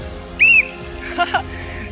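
A single short, sharp whistle blast rings out up close, followed by a brief voice and faint background noise.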